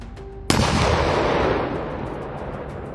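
A Ukrainian tank crew fires on a Russian armored personnel carrier: one sudden heavy cannon blast with a long rumbling, rolling decay, loud and close, after a brief faint hum.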